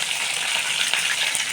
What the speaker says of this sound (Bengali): দেখুন চিকেনটা আমি এইরকম ভেজে নিয়েছি